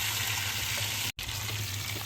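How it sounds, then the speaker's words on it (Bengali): Pangas fish fries in hot oil in a pan, a steady close sizzling hiss that cuts out for a split second before carrying on. "এক পাশ ভাজা হয়ে গেছে এখন অন্য পাশ ফিরাই দিব"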